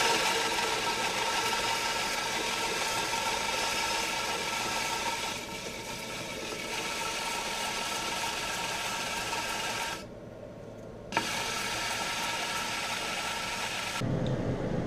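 A sanding disc runs against the sides of wooden segments for a segmented vase, a steady close whirring rasp with short dips and pauses as each piece is pressed on and lifted off.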